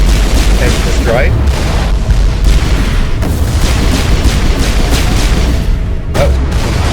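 Ship explosions in Mass Effect Legendary Edition: a dense, continuous roar of booming blasts and rumbling debris, loud and unbroken throughout, with faint game tones layered over it.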